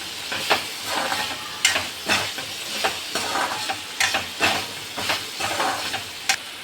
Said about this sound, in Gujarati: તો હવે આપણે સિંગ ભજીયા ઉમેરીશું અને મિક્સ કરી દઈશું